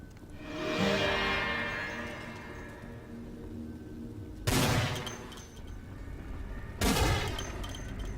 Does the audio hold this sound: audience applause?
no